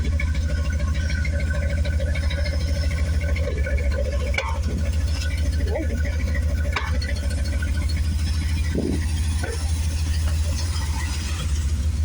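A 1979 C3 Corvette with a custom fuel pump and a history of idling trouble runs at idle, a steady close engine drone with a faint rattle and a few brief knocks over it.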